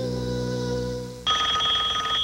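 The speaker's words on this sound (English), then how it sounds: "Phone ring." A telephone bell rings in a TV commercial, a steady tone that jumps into a louder, brighter trilling ring partway through, with no voices over it.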